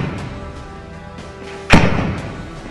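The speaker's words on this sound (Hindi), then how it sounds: "फिर एक के बाद एक कई धमाके" A single heavy blast at an army camp in Sunjuwan, one sharp booming thud that rises out of a low rumbling background and decays over about a second, with no further bursts following.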